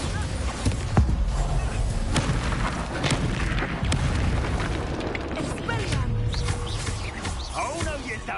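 Bombarda spell explosions in the video game Hogwarts Legacy during a dark wizard battle, a run of sharp booms and bursts over a busy, noisy mix of combat sound.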